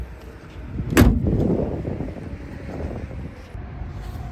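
The hood of a Porsche Macan Turbo slams shut with a single heavy, close thud, followed by a few seconds of quiet outdoor rumble and wind.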